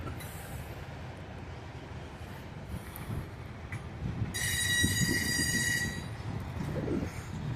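Norfolk Southern intermodal freight train led by engine 6983 coming into Binghamton, a low rumble of rolling cars with a high metallic wheel squeal rising midway, heard from a distance, with faint birds in the background.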